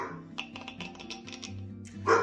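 Several dogs barking indoors, a run of quick sharp barks and yips close by, ending with a louder bark.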